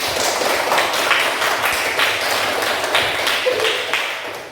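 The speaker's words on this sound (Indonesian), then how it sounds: "Sekali lagi tepuk tangan buat kelompok 3." Students in a classroom clap for a group after its presentation in an Islamic studies lesson, producing a brisk, continuous patter of close hand claps with a few sharper slaps standing out.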